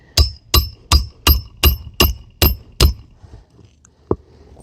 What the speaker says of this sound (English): And I hammer away.